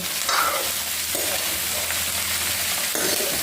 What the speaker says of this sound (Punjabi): ਹੁਣ ਆਪਾਂ ਪਿਆਜ਼ ਪਾ ਲਈਏ ਭੁੰਨੀ ਲੈਣਾ